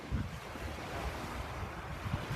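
Sea waves wash onto a chilly beach in Kent, a steady broadband roar with continuous surf and wind buffeting the microphone. There is no talking.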